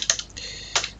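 Two quick bursts of computer keyboard typing, each a short cluster of crisp key clicks, as a username is entered while logging in to a Makulu 4.0 KDE Linux desktop, close and clear with a brief pause between.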